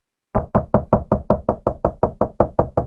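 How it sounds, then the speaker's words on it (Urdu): Hard, loud knocking on a door, a steady rapid series of about a dozen evenly spaced blows, close and forceful with no voices. "اور پھر دستک دوبارہ ہوئی، اس بار پہلے سے زور سے"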